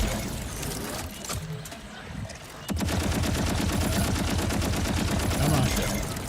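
Rapid automatic gunfire from a weapon in Borderlands 4: scattered noisy shots at first, then a steady, fast, evenly spaced stream of loud bursts that runs to the end.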